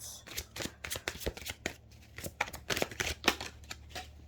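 Tarot cards shuffled by hand up close, a rapid series of dry riffling snaps and flutters in uneven bursts with brief pauses between them.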